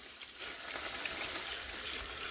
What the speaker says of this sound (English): I'm add in 1 bunch of cilantro and 1 gallon of water